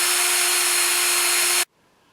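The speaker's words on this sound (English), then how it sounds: "Now I'm holding on to the barrel of the riv nut machine. As soon as it gets tight." A powered rivet nut tool tightens a rivnut while a tripod shoe is mounted, giving a loud, steady, high-pitched motor whine for about a second and a half that cuts off abruptly into silence.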